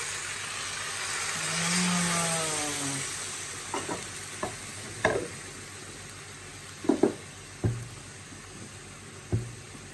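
Steady sizzling of something frying in a pan, with a stirring sweep early on and several sharp clinks of a utensil against the pan.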